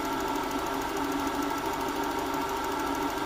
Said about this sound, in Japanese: でちなみに入れる前のエンジン音です。